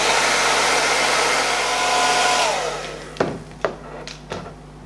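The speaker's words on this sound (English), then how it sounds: "then I'll dry it down with cool air on my blow dryer" Blow dryer running on a cool setting over a wig, a loud steady broadband rush that fades out midway, followed by a few sharp knocks and clicks.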